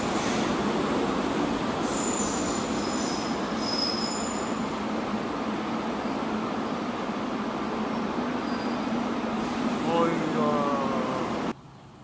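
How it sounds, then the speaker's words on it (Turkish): A metro train moving through a Rio de Janeiro station, a loud continuous rumble with high wheel squeal and rising whine, ending with an abrupt drop as the sound cuts off. "Metro istasyonu."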